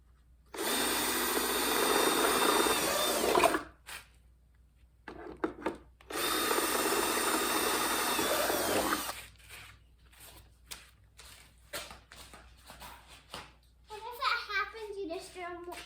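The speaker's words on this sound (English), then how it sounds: "You just drill in the same spot." A power drill whirs loudly in two long bursts with short stops between, boring into a plastic bucket; someone talks in the gaps and near the end.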